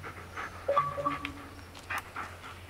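A dog panting in the Blair Witch video game, a series of short, soft breathy huffs with a faint whimper, fairly close and alone over a low ambient hum.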